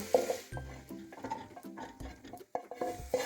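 Metallic scraping and clattering in a cooking pot on the stove as chopped vegetables are tipped and scraped in, a few knocks and rattles close by.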